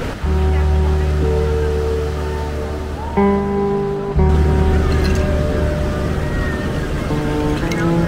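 Sea waves at Swargadwar beach in Puri in the morning, a steady broadband wash of surf with a constant low hum and faint tonal noise over it, no voices heard.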